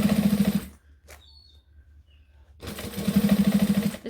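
Sewing machine top stitching a machine-quilted cushion, two loud close bursts of rapid even motor-driven stitching separated by a quiet pause.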